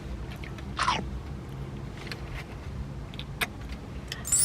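Someone takes a single crunchy bite into a hot burek close by, followed by faint chewing and small rustles under a low background hum.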